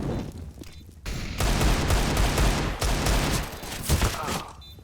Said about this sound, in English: Headshots are key when you're shooting with the Deagle